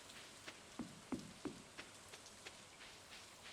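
Rain falls in a video game as soft, faint patter with a few brief drop-like taps scattered across a low, steady hiss.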